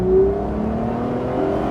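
A 1999 Plymouth Prowler V6 pulling hard at full throttle, its engine note steady and loud with a rising drone that holds throughout, close and alone with no voices.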